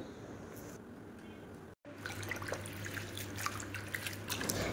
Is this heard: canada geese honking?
no